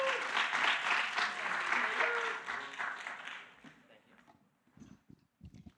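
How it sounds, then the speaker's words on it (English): A conference crowd at WordCamp Montclair 2025 breaks into sustained applause to welcome speakers. The clapping stays steady for about three seconds, tapers off, and then a voice begins speaking. "Everyone give a warm welcome to Courtney Robinson and Evan Herman."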